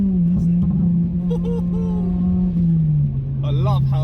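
A tuned 2004 Honda Civic EP3 Type R pulls hard through third gear, its engine note a steady loud drone that shifts down slightly as it eases off, while people talk over it inside the cabin.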